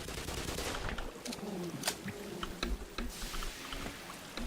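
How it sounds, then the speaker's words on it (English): Weapons firing in the Black Mesa video game, such as a glue gun or Tau cannon aimed at an ichthyosaur, heard as sharp bursts and repeated shots over a dense, loud background of game noise. "Kill an ichthyosaur with a glue gun, or the Tau cannon."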